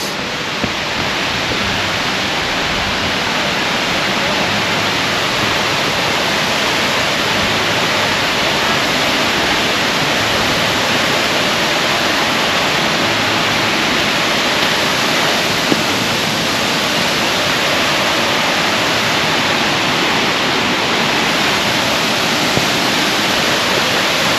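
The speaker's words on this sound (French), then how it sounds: "Donc arrivé au pied de la cascade d'Ars." Cascade d'Ars waterfall near Aulus-les-Bains in the Ariège roars as a steady, loud, broadband rush of falling water, unbroken and close, with no voices.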